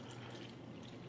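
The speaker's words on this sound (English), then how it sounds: "Watch what happens when I go to pour again." Water poured onto a tea bag as a steady, soft trickle and splash running evenly throughout, fairly quiet and heard alone.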